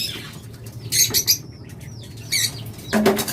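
Caged pet birds such as lovebirds, budgerigars and cockatiels flap their wings in several short bursts, with soft chirps and squawks rising from steady aviary background noise.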